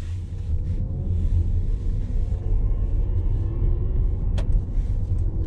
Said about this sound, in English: Kind of hear the engine whine a little bit,